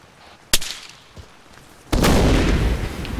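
A frag grenade detonates in the military shooter Arma 3, a loud broad blast whose roar sustains to the end, preceded by a sharp gunshot crack and a fainter distant report.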